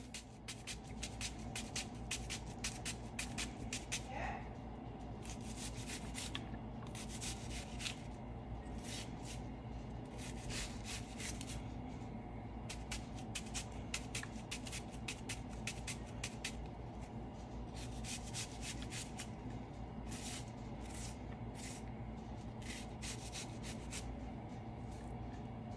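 A knife chops onion for tacos with rapid, crisp strikes on a board, coming in dense bursts over a steady background hum, close and fairly quiet.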